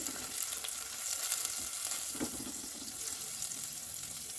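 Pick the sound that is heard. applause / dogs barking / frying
frying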